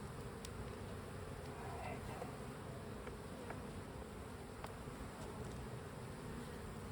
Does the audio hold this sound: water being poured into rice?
no